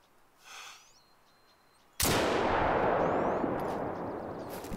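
A single sharp rifle shot in the hunting video game theHunter: Call of the Wild cracks out after a quiet stretch with a faint bird call, then rolls away in a long echoing tail.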